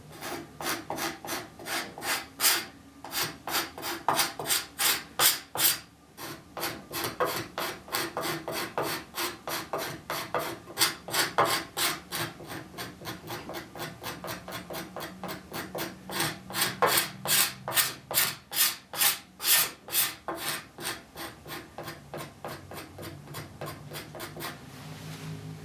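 A steel scraper rasps along the wooden arm rail of a chair in steady, repeated strokes, each a close, dry scrape. The rhythm pauses briefly before resuming.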